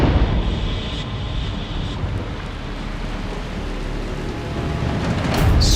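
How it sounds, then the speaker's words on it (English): Hard rain falls across the arid desert floor of Death Valley, a continuous broadband hiss and roar that stays steady throughout and rises slightly at the close, with no speech. "The rain falls hard here."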